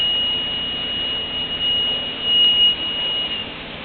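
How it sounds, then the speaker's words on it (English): A coffee roaster's alarm sounds as the roast approaches discharge temperature: a steady, thin electronic beep tone in broken pulses over constant roaster hum and airflow noise, with no talk. "We've had our alarm now."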